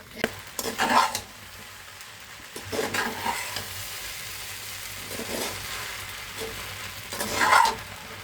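Chicken noodles with added egg are stir-fried in a pan, with a low steady sizzle broken by several bursts of scraping and tossing at irregular intervals.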